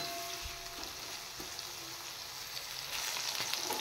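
Food fries lightly in a pan before slit green chillies go in, a steady close crackling sizzle with a brief stir, slightly louder toward the end.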